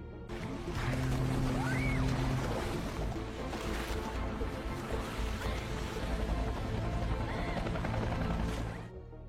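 Big ocean waves surging and washing onto a beach at night, a loud continuous rushing roar with low rumble, mixed with other faint tones.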